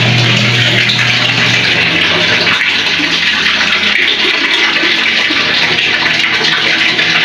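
Water runs steadily from a tap to fill a basin for laundry, a constant broadband rush with a low hum at the start and no speech.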